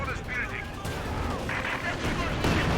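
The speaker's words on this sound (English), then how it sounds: "Here comes a Katyusha barrage again." A Katyusha rocket barrage fires and lands in the war game Company of Heroes 2, as a dense rumble of launches and blasts continues under a voice talking over the battle.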